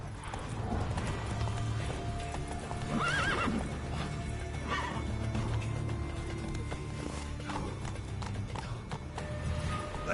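The horse Roach gallops with rapid, rhythmic hoofbeats in The Witcher 3, and loud neighs and whinnies break out over the running, all close and fairly loud.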